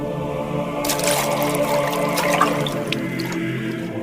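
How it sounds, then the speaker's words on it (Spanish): Water pours steadily into large jars, a continuous rushing, splashing flow that stays close and even throughout with no voices. "Llenen de agua las tinajas."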